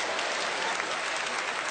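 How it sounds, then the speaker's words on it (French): An audience applauds a dance group called Chérubin at a comedy show, a dense, steady wash of many hands clapping together, loud and continuous with no pauses. "applaudissez pour le groupe Chérubin"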